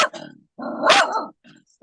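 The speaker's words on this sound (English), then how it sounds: "good dog, get him, Rock." A dog gives two or three close, loud, rough barks with a growly edge, separated by short pauses.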